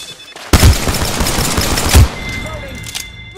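Gunfire in a LifeLine battle-royale match comes as two sharp, loud bursts about a second and a half apart, each leaving a short trailing rumble, with faint game sounds in the gaps.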